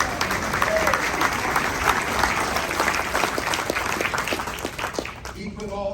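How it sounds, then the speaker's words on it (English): Audience applause fills a keynote hall at a copier industry conference, steady dense clapping from a large crowd that holds for several seconds before tapering off near the end. "let's give him a round of applause."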